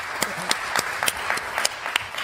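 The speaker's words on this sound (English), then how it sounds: "we can clap to that if you want" Scattered audience clapping at a panel discussion on American justice, a thin patter of claps with a few sharper individual hits spaced through the moment, fairly quiet and with no talking over it.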